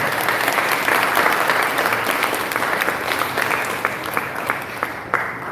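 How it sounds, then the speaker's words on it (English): An audience at a National Parents Day honoree ceremony claps steadily in sustained applause that fills the room, then thins toward the end with a few scattered louder claps. "Give me a round of applause."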